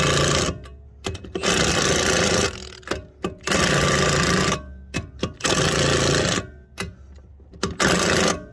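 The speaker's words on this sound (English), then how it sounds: "sorry, I got to use the impact." An impact wrench works the lug nuts during a tire change on a Kia Seltos outdoors. It fires loud, close, rattling bursts of one to two seconds each, about five in all, with short pauses between them.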